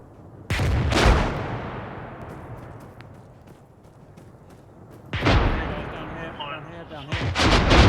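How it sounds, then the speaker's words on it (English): Mortar rounds landing in an Operation Desert Storm video game: two heavy booming blasts with rumbling decay, the second followed by more crackling explosions, loud and fairly close. "You got incoming mortars."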